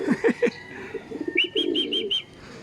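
A racing pigeon arriving at its loft after a training toss gives soft, low cooing calls, and a short run of brighter chirps follows near the close.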